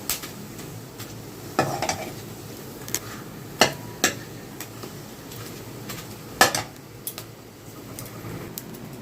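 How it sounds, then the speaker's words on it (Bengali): Sago papad fries in hot oil with a soft steady sizzle, broken by several sharp utensil clinks and scrapes against the pan, close up with a faint background hum. "এখানে একটু সাবুর পাঁপড় ভেজে নিচ্ছিলাম"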